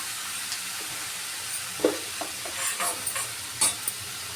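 A pumpkin curry is stirred in a pan over a soft steady sizzle, with a few scraping spoon strokes and light clinks spaced through the short stretch.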